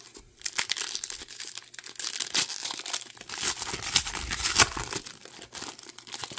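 Foil wrapper of a 2024 Leaf football trading card pack being torn and crinkled open by hand, close up, with dense crackling and ripping across several seconds and no talking.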